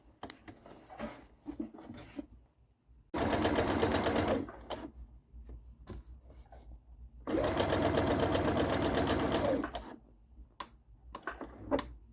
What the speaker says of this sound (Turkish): Bu çizginin şöyle çok yakınından şöyle dönüp şu şekilde geri dikeceğim.